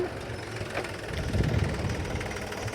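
A freshly serviced farm tractor engine runs steadily at idle, a low continuous diesel rumble with slight knocking, moderately close and alone against outdoor wind.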